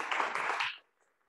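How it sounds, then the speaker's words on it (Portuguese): A short, lively burst of applause from a small group at a Toastmasters club meeting, close and fairly loud, lasting under a second before it cuts off to near silence. "dá uma salva de palmas para ela."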